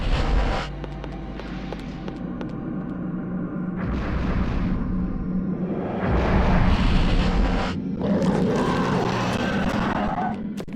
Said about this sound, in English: Maybe I just need to bring out my gun and shoot these things.